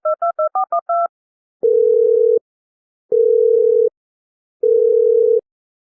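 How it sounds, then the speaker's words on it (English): A quick run of touch-tone dialing beeps is followed by three long, evenly spaced telephone ring tones, loud and clean against silence. "make it sound like I'm calling you on the phone"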